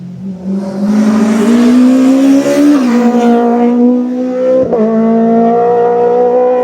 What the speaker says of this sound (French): Tiens, écoute, ça c'est une Porsche GT2 RS5